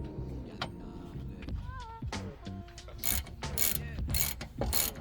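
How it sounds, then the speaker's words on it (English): Bolt being fitted into the rear shock top mount of a BMW E46 320i, close metallic ratcheting clicks, scraping and rattling taps in an irregular sequence, with a brief squeaky creak partway through. "First of all, we're going to get this bolt in."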